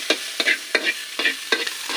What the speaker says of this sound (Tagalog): Magigisa na siya ngayon ng sibuyas, luya at kamatis.